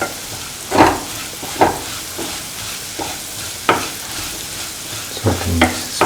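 Salt being stirred into bitter gourd pickle frying in a pan, several distinct scraping strokes of a spoon over a steady close sizzle, no voices.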